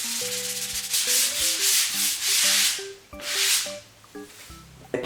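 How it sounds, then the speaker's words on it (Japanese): Repeated back-and-forth sanding strokes with 240-grit sandpaper smoothing wall putty, close and steady, with brief light background music tones underneath. "240番のペーパーでこういう風に平らにしていきます。"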